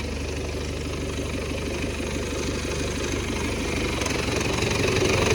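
A diesel MTZ-892 tractor, fitted with a snow plow blade, idles steadily up close before going out to clear snowy roads, a continuous low rumble with no talk.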